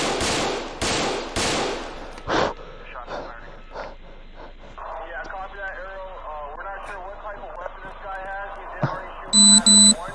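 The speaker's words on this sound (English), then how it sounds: "Bravo shots fired! Active shooting!" Gunfire during an active shooting captured on a police body camera: several loud, sharp reports in the first seconds and another at about two and a half seconds, then radio chatter and voices, with electronic beeps near the end.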